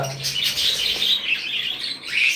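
Several small cage birds chirp and tweet continuously at close range, high bright calls overlapping with no pauses.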